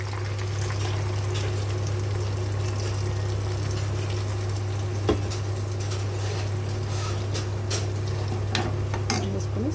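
Peanut chutney stirred into a hot tempering of garlic, dried red chillies and curry leaves in a pan, with soft scraping and faint clinks over a steady low hum.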